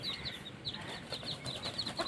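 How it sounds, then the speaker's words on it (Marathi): Desi village hens clucking near a breeder rooster, repeated short clucks at moderate distance over a steady outdoor background, with no talk. "त्यांच्याकडूनच घेतलेला हा ब्रिडर कोंबडा आहे"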